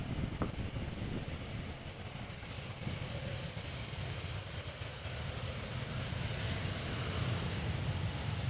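A BA CityFlyer Embraer 190 jet, thirteen years old, arrives at Amsterdam Schiphol, a steady broadband engine roar holding at constant loudness throughout with no voices.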